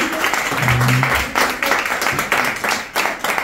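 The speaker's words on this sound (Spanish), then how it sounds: "Un aplauso a Ana por recibirnos." Audience applause for the host at an evening gallery soirée held in her house, a steady wash of clapping from a gathered crowd with a few voices mixed in.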